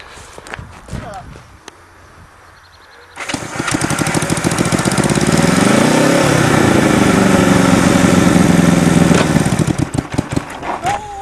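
Go-kart powered by a motorcycle engine starts after a few knocks and thuds, then runs loud and close with a rough, buzzing drone that rises in pitch as it revs and drops off near the end. People talk over it.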